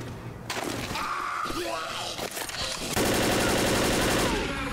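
Rapid automatic gunfire in Left 4 Dead, a loud sustained rattle of shots that grows denser and heavier partway through, with voices talking underneath.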